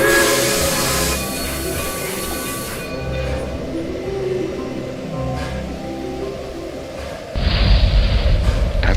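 A train rumbles steadily with low mechanical drone and hissing, then a louder burst of roaring noise near the end.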